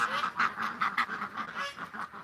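A flock of ducks in a pen quacks in a quick, rhythmic series of nasal calls, close by and fairly soft, with no voices over them.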